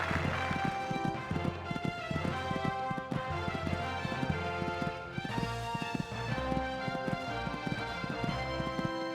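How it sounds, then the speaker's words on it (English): A horse gallops across a cross-country course on a sunny day at a beginner championship, its rapid, even hoofbeats pounding steadily and close for the whole stretch. "This horse is really jumping well through. Galloping along nicely now."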